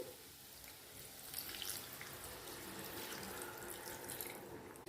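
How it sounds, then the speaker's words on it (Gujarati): Water poured from a glass into a pot of spiced Gujarati potato curry, a short, fairly quiet splashing trickle with no talking. "હવે આપણે શાકની અંદર પાણી એડ કરીશું"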